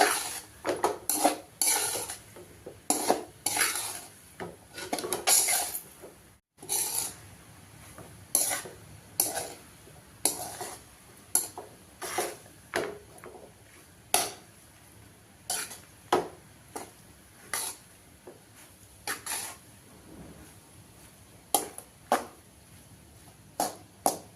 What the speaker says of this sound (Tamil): அதனால் மேலால் அப்படியே தொலாவி விடணும்.